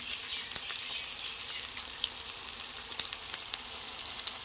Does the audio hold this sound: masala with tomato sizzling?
yes